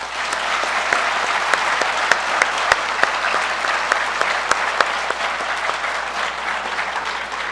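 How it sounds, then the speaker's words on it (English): A school assembly audience at a high school Veterans Day event applauds steadily, a sustained wash of many hands clapping with a few sharper individual claps standing out, filling the hall for several seconds. "So please help me give them all a round of applause."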